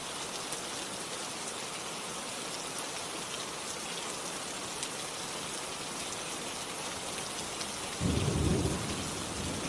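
Steady heavy rain pours throughout, with a low rumble of thunder rolling in near the end.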